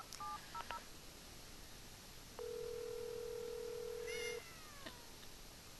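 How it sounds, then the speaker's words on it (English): A cell phone set to vibrate buzzes as a steady, moderately loud mechanical hum for about two seconds in the video game Secret Files: Tunguska, with faint, brief cat-like cries and chirps before and after it. "Let's see how the cat reacts to my cell phone's vibrate mode."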